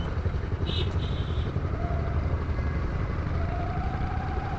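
Motorcycle riding slowly and carefully, its engine a steady mid-pitched drone with road and wind noise throughout, close and constant.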